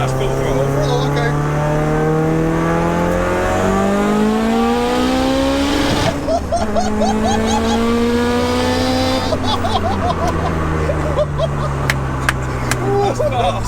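A 900bhp 2.0-litre Mitsubishi Evo 8 pulls hard at full throttle in third gear, engine pitch climbing through loud, close revs with a gear change midway, while people talk over it.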